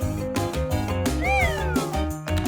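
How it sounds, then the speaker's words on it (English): A kitten meows repeatedly in a farm-animal puzzle game, with several rising and falling cries over a soft musical backing. "It's a kitten, the cat's baby."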